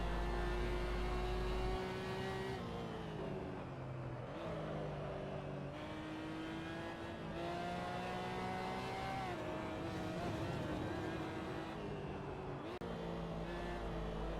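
A Porsche Cayman GT4 Clubsport race car laps a track in a racing video game, its engine note rising through the gears with repeated upshifts and downshifts, braking and re-accelerating through corners, loud and continuous with no talk.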